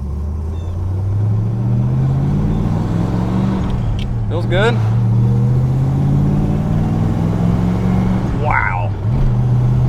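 A deep, rumbling modified V8 engine in a 1979 Cobra idles and revs loudly up close, with a person's brief comments over it.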